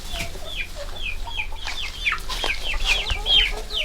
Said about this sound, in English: You can hear the rooster in the background.